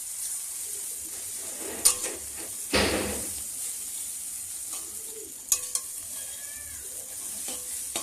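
Chowmein with egg stirred in a frying pan over a steady hiss of sizzling, with one longer scraping sweep and a few sharp clinks of the utensil against the metal, close and without speech.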